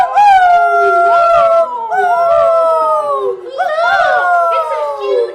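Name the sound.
howling dogs, sound effect in a horror radio play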